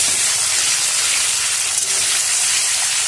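Dal masala with onion and garlic roasting in a pan gives a steady, close sizzle and hiss that runs unbroken and fairly loud, with no voices over it.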